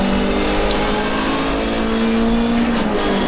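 An MGB race car at the Silverstone Grand Prix circuit during a classic race, its engine loud and close as it drones and revs hard, shifting down into second gear for a corner.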